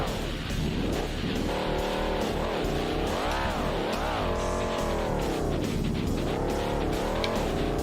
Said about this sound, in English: Let's do some burnouts now.